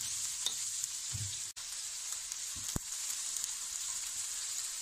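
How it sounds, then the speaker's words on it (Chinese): Pre-boiled seafood mushrooms being stir-fried in a pan, a steady hiss of sizzling oil punctuated by a few sharp clacks and scrapes of the spatula, close up and without speech. "把海鲜菇倒进去， 稍微翻炒一下。"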